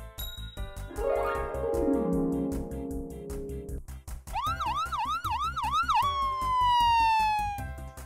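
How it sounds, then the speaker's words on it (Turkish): A Peppa Pig toy ambulance siren plays electronic wails: a rising tone, then a rapid warbling yelp, then a long falling tone, with tinkly chimes and jingly music underneath. "Ambulans!"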